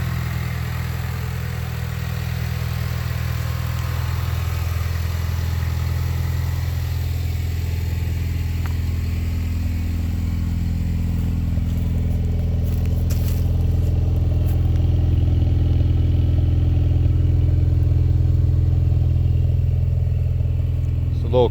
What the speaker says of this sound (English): that's the Solo Performance exhaust, and it's all resonators